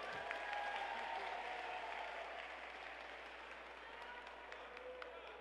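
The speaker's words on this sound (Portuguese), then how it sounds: "Mais uma vez, uma salva de palmas para o Eduardo." A crowd at a political candidacy launch in Rio claps in a continuous, even wash of applause that stays faint and distant, tapering slightly over a few seconds.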